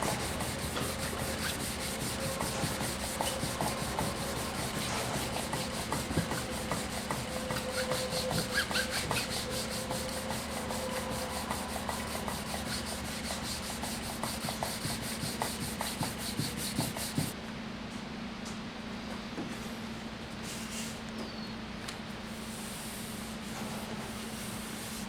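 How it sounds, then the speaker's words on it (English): Sandpaper rubbing over a wooden stave drum shell to remove scratches left by a coarser grit, a steady close-up scraping with rapid back-and-forth strokes that eases into a quieter, smoother rub near the end. "Have to make sure to get all the scratches off from the previous grit."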